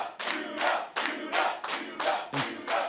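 A wrestling crowd cheers and chants in rhythmic bursts, five or six loud swells of voices in steady succession filling an indoor arena.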